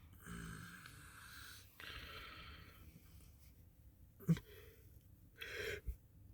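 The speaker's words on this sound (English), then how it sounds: "I don't know why I'm yawning all of a sudden." A person yawns, drawing out long, breathy, strained exhalations with a few short gasps and snorts, close and fairly quiet against a low room hum.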